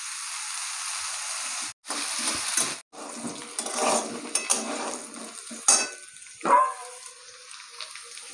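Potatoes sizzle and hiss steadily as they fry in a pan, with spatula scrapes and stirring clatter breaking through several times, close and fairly loud, with no talking.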